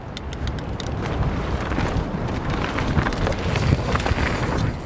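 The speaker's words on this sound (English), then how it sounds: "That is so windy." Wind gusts buffet the microphone in a loud, rumbling roar that swells and dips over several seconds.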